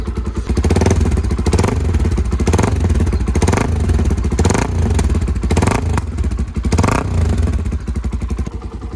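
A Hyosung Karion RT 125 motorcycle engine under renovation running loud and close, its rapid pulsing beat steady with slight rises and dips in revs throughout.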